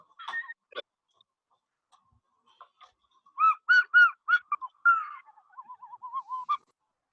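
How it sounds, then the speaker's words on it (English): Someone whistles in short, faint tonal bursts during an online lecture, a few scattered chirps followed by a quick run of sliding whistled notes, otherwise surrounded by silence. "Somebody's making some whistling sounds."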